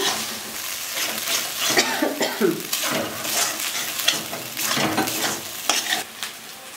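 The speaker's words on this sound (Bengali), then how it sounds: "মশলাগুলো নাড়াচাড়া করে ভালোভাবে কষিয়ে নিচ্ছি।" Spices for a duck curry are stirred and fried in a pan, giving a busy crackling sizzle with repeated scraping strokes of a spatula at close range, with no talking.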